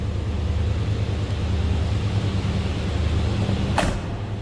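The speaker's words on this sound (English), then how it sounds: "Door closes nicely." A 1987 Chevrolet K10 pickup's door shuts with a single short, solid thud near the end, heard close over the steady low rumble of the idling 305 V8.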